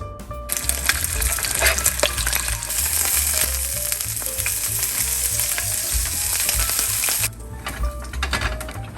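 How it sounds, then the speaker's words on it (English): Pork meat fries in a pan for pancit bihon, giving a loud, continuous close sizzle with occasional scraping stir sounds, and the hiss eases near the end. "Now we can fry our pork meat."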